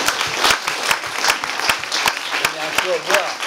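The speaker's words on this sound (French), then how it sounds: "En tout cas, nous vous applaudissons" An audience applauds after an evening talk at a city hall, with sharp dense clapping throughout and a voice speaking over it toward the end.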